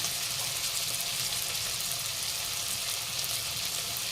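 Ground cumin goes into hot oil while pumpkin chhakka with peanuts is being cooked, and it gives off a steady, close sizzle with frying hiss that stays even throughout, with no voices.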